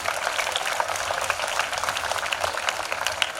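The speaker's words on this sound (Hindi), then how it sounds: "निवेदन करती हूँ जोरदार तालियों से कीजिए उनका सम्मान" Audience applause welcoming guests onto the stage at a school Independence Day celebration, a steady, even patter of many hands clapping that stays at a moderate level the whole time with no voices over it.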